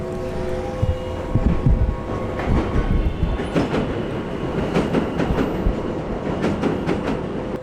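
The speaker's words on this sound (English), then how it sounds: "It's actually an art installation by Max Neuhaus." A loud, continuous rumble of a passing subway train with rattling clickety-clack beneath a street grate in Times Square, at Max Neuhaus's sound installation, steady throughout with some wind buffeting.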